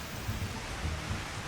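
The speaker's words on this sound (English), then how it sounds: "Oh wow, and it's raining." Rain falls in the Final Fantasy XIV online game, a steady, soft hiss of rainfall with a low rumbling undertone, continuous and alone for a brief moment.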